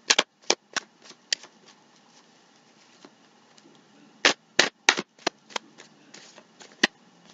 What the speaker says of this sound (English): I'm going to give the deck 2 shuffles